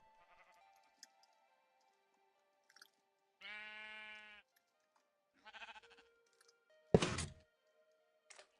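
Sheep bleating in Minecraft: one sustained blocky bleat in the middle, a shorter one after, and a sharp thunk near the end, with faint game sounds between and no talk.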